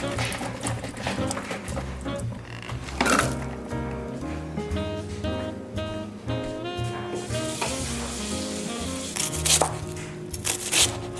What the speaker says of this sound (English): I'm just going ahead and peeling these and chopping them